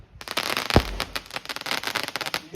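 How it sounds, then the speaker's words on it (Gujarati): Birthday firecrackers burst in a rapid crackling series, with two sharper, louder bangs standing out near the start and at the end of the short outdoor string of pops. "તો ગાઈસ ફટાકા ફૂટશે"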